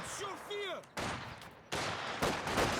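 Maxim machine gun fire in the video game Company of Heroes 2, heard as bursts of dense, sustained rattling that start and stop abruptly at close range, with a short tonal game sound beforehand and a voice talking underneath.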